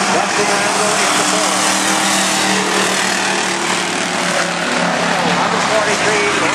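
Race cars in a Truck/Thunder heat at Tisdale Motor Speedway roar continuously around the track, a dense, loud wall of engine noise with an announcer talking over it.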